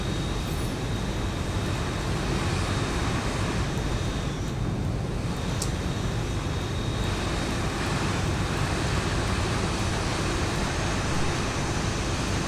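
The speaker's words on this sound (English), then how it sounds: "Okay, so the pushback is starting." An airliner being pushed back in a flight simulator on the ground at Prague, with a steady loud broadband engine roar and rumble that holds constant throughout without letting up.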